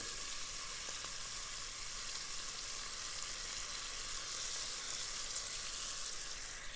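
Washed rice sizzles in a hot pan, giving a continuous, even, close frying hiss with no talking.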